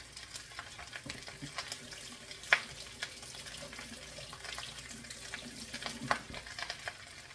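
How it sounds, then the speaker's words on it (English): Cold cooked rice is stirred in hot oil in a pan, giving a steady soft sizzle with scraping clicks of a spatula at uneven intervals and a couple of sharper knocks. "Okay, and we start mixing. You want to get it covered with the oil. Make sure it is actually fried rice."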